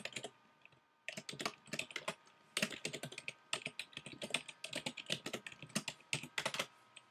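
A Java program is typed on a computer keyboard in quick, irregular bursts of crisp key clicks with short pauses between runs, close and dry with no voice.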